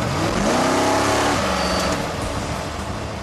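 A car engine revs up loudly with rising pitch as the vehicle accelerates, then the tone drops and settles into a steady drive.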